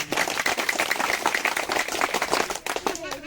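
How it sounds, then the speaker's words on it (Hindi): A crowd at a Hindi-language public address claps loudly and steadily for about three seconds, a dense burst of many hands close to the microphone that fades briefly near the end. "एक बार जोरदार मेरे लिए ताली बजाएं"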